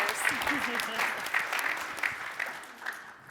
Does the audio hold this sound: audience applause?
yes